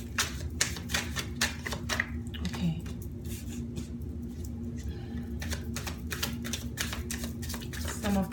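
Tarot reading cards being shuffled, a run of quick soft riffling slaps and flutters, close and fairly quiet over a steady low room hum, with no talking.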